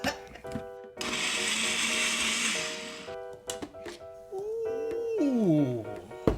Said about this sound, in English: I wanted to play with my food processor and I wanted to blend something up